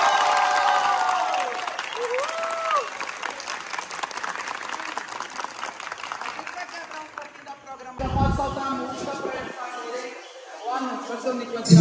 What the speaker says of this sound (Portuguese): Mais uma salva de palmas para ele.